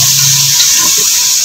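Water pours steadily into a cooking pot of onions for mutton paya, making a loud, continuous rushing splash close by with no talking.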